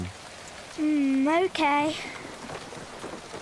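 Rain falls steadily outdoors at night onto a sleeping bag's surroundings, a soft continuous hiss under brief speech and a drawn-out vocal sound in the middle.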